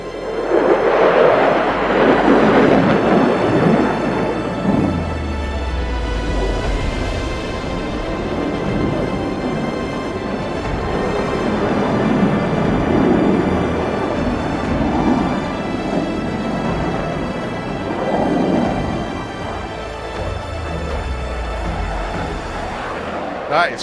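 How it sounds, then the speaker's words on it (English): A Eurofighter Typhoon climbing vertically with afterburners lit at an air display, a loud, sustained rumbling roar that swells and rolls over the whole stretch, with people talking beneath it. "It's vertical into the clouds with the afterburners on, and there goes the Typhoon."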